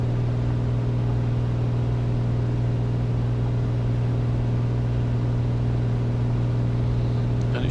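A Piper Comanche 250 engine in Microsoft Flight Simulator 2024 drones steadily in cruise over water, a constant loud low-pitched hum with no variation in throttle.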